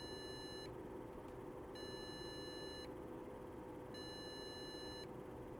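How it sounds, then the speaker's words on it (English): A cheap AliExpress NAS device, faulty and not turning off or on, beeps repeatedly in long bursts of rapid tones, each about a second, separated by short pauses, over a steady background hum. "It's now beeping incessantly and not turning off and on."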